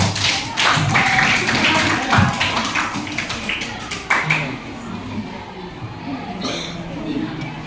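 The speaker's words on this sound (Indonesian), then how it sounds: "Oke, tepuk tangan." A class of junior high students clapping together in a classroom, a dense patter of hand claps over the first few seconds that thins out toward the end.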